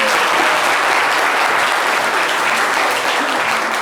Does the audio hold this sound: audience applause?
yes